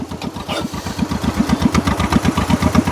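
A 1949 John Deere Model M tractor engine chugs steadily while plowing, with a loud, close, even rapid putter that holds for the whole stretch with no talk.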